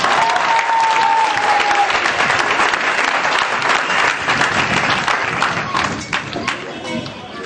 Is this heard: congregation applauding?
yes